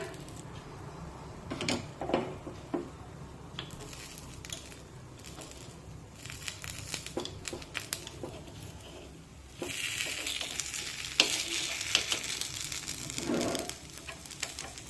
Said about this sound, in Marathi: आणि हे अप्पे पलटून घेऊया